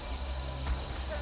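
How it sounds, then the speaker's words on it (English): Male cicadas calling after dark in the Australian bush, a steady, shrill, high-pitched buzzing drone that continues without pause at moderate loudness. "After dark, male cicadas call to females,"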